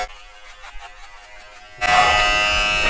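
A Rainbow electric shaving machine and trimmer switches on partway through, buzzing with a steady, close motor hum that keeps running to the end after a quieter stretch of faint background noise.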